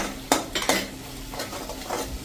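Spice tempering with tomato puree being stirred in a hot pan, with a few sharp spoon scrapes and clinks over a soft, close sizzle, no talking.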